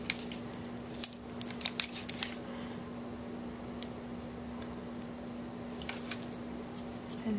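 Scissors snipping a sticky glob of material while making a dove snow globe, a cluster of crisp close cuts followed by scattered later snips over a steady low hum.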